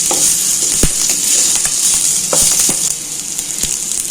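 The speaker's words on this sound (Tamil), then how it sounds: "வடகம் டேஸ்ட்டு பிடிக்குன்றவங்க வடகமும் போட்டு தாளிச்சிடலாம்" Sun-dried vadagam fritters sizzle and crackle in hot tempering oil for a bottle gourd and lentil kootu, a steady frying hiss broken by several sharp pops and spatters, close and fairly loud, with no voices.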